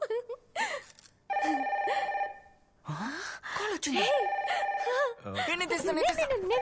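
A telephone rings in a radio station studio, a steady repeating electronic ring tone sounding in bursts beneath and between a woman's lively speech and short vocal exclamations.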